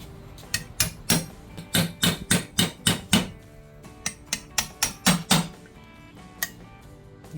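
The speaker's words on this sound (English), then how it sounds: "Hammered it out from the inside." Metal-on-metal hammer blows drive a seal out from the inside of a Briggs & Stratton Intek small engine, a quick run of about a dozen sharp, evenly spaced strikes, a short pause, then a few more close-up raps.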